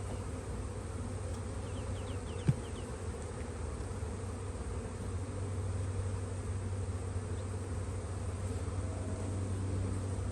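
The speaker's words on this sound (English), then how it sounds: "Just pushing the bees out of the way." Honey bees buzz in an open hive during a spring inspection, making a dense, constant drone close by, with one brief knock partway through.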